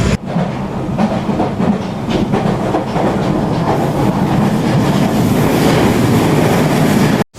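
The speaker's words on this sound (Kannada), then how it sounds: "ಟ್ರೈನ್ ಇವಾಗ ಬಿಡ್ತೀರಿ ನೋಡ್ರಿ." A passenger train pulls out of a station, its loud, close rumble building as a steady rhythmic clatter of wheels over rail joints runs on throughout, with no talking.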